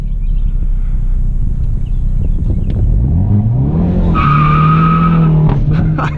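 A Hyundai Veloster N spins its tires in a reverse burnout, a loud engine drone climbing in pitch as the tires break into a steady, piercing squeal that holds for the last two seconds, close and unbroken.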